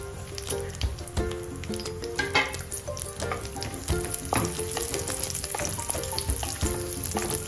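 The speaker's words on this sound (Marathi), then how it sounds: "यामध्ये थोडे ड्राय फ्रूट्स आपण शॅलो फ्राय करून घेणार आहोत। काजू, बदाम, थोडे मनुके" Cashews, almonds and raisins shallow-fry in a pan with a dense, continuous near sizzle and crackle, punctuated by light stirring scrapes and clicks, with no one talking.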